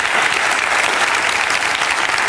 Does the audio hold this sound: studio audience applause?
yes